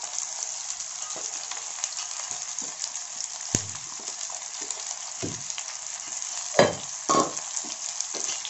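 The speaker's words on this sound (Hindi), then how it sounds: "कंटिन्यूअस चलाते हुए तेज आंच पर भूनता है इसको" Chopped okra fries with onions in a pan over high heat, giving a steady close sizzle. Occasional scraping clacks come from continuous stirring, and there is no talk.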